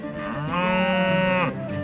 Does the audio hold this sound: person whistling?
no